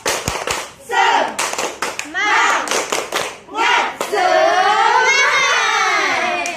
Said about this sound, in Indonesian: Ayo semuanya kita tepuk semangat.